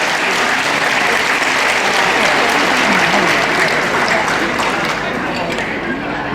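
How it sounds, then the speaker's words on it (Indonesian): School alumni at a reunion in a hotel ballroom give a loud, dense round of applause that continues steadily for over six seconds, with crowd voices mixed into the clapping. "kita tepuk tangan rasa terima kasih kita kepada Ibu Dewi"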